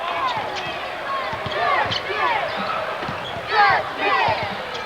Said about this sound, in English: this is a loud crowd